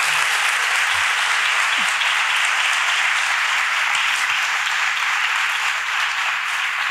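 An audience at a Málaga Holy Week event applauds steadily and densely, a continuous wash of clapping at even loudness throughout.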